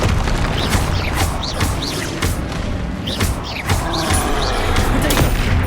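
Spell explosions from Confringo and Bombarda in Hogwarts Legacy, a dense run of loud booming blasts and crackling impacts layered with game effects, repeated bursts close together over several seconds.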